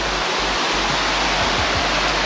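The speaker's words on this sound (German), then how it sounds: "Und was macht ein Fluss, wenn es anfängt zu regnen? Er schwillt natürlich an, gerade in den Bergen." A swollen mountain river in the Balkan Mountains of Bulgaria rushes after heavy rain, a loud, steady roar of water up close with no pauses.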